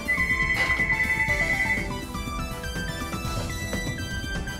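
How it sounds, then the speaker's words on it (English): A phone rings with a repeating electronic ringtone, steady and fairly loud, the tone pattern shifting partway through and continuing without anyone talking. "the phone rang for some reason"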